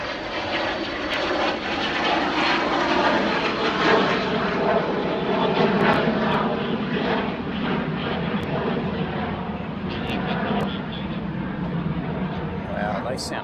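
Aircraft engines at Sydney Airport roar in a steady, loud, sustained drone that swells slightly and lingers throughout, with voices talking over it.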